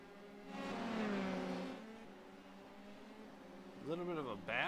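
F3 sim racing cars scream past with rising and falling engine whine in the German Grand Prix round, one car swelling then fading and another quick rev at the end, under a commentator's voice.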